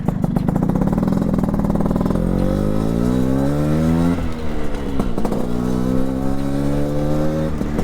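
A 1986 Piaggio Vespa PX200E scooter engine pulls away in first gear, its loud, buzzing revs climbing steadily in pitch, briefly dropping twice, then rising again close by.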